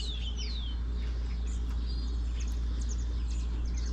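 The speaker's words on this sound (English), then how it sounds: "The birds are very chirpy this morning." Several birds chirp and tweet in short, bright bursts over a steady low hum on a quiet morning at a mountain viewpoint in Serra do Rio do Rastro, Lauro Müller, Santa Catarina.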